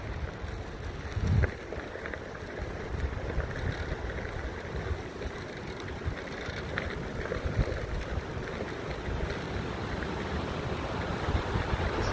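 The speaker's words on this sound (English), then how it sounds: "The waterfall up here." Continuous roar of rushing water from a waterfall on a whitewater river in Colorado's Front Range, broad and steady, with some wind buffeting the microphone.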